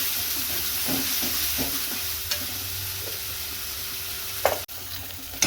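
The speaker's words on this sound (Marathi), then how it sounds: "छान परतून घ्यायचं. साईडने असं तेल सुटतं बघा मसाल्याला" Masala sautés in oil in a pot for misal pav, a gentle steady sizzle with a few soft stirring scrapes and a sharp clank near the end.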